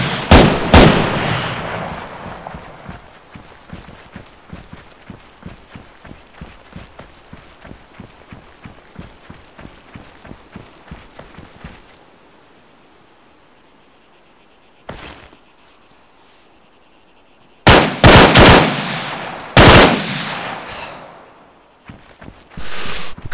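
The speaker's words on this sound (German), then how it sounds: "Das sind Schüsse von rechts." Rapid gunfire from the video game ARMA III rattles in a long, evenly spaced burst, goes quiet, then returns as several loud, dense volleys near the end.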